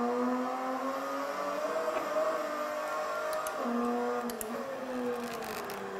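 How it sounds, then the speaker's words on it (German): A VW Scirocco race car accelerates out of a corner on the Hockenheimring, its engine note rising and dropping through gear changes, heard faintly from inside the car with tyre and wind noise. "das Auto drehen und wieder raus beschleunigen"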